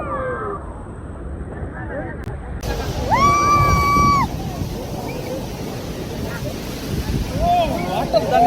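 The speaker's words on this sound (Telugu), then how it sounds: "వాటర్ ఎట్లా పడుతున్నాయి" Niagara Falls pours down in a constant broad roaring rush, buffeted by wind on the microphone; voices talk over it, and a brief high tonal cry rises midway.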